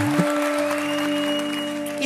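Studio audience applause on a Hindi comedy show, steady and moderately loud for about two seconds, with sustained musical tones running underneath.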